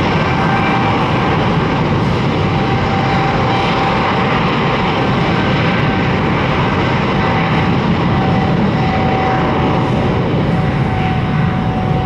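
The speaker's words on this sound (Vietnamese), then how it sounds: "bây giờ thì chiếc máy bay đã được đài kiểm soát không lưu sân bay Tân Sơn Nhất cho khởi hành rời khỏi sân bay Tân Sơn Nhất" A United Airlines plane departs Tan Son Nhat airport with a loud, unbroken jet engine roar that holds steady throughout, and no voices are heard.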